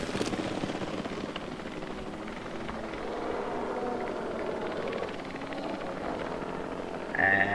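A helicopter airlift in Jurassic World Evolution 3 drones with a steady rotor whir throughout, fairly close and unbroken, followed by a brief brighter tone near the end.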